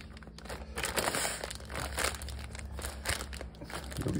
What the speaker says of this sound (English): I also like to squeeze out as much air as I can.